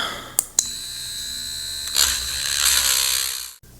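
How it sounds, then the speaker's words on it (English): A handheld rotary tool with an engraving bit widens a hole in a Tau XV8 Crisis Suit model, giving a steady high whine that rises partway through and cuts off abruptly at the end. "I'm not going to the hardware store to find a smaller drill, but a smaller engraving bit"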